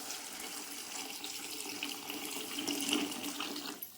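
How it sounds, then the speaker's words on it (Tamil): Water runs steadily into a pan of ridge gourd bajji batter with a continuous hissing splash, close and fairly even, swelling slightly near the end before cutting off. "தேவையான அளவு தண்ணி ஊற்றிக்கலாம்."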